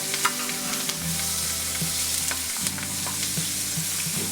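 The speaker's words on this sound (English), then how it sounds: "You want to start browning the onions first before you add your green beans, just because they take a little bit longer." Onions fry and sizzle in avocado oil and butter on an outdoor fire disc, with a steady close crackle and a few stirring clicks, alone without talk.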